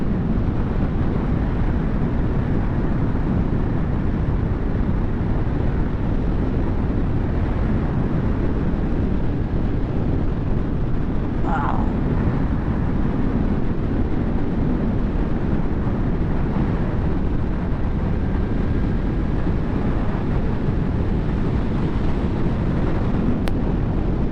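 Steady, loud wind roaring across a microphone while riding a 2023 Zero SR/F electric motorcycle, a constant broadband rush with no engine sound and no voices.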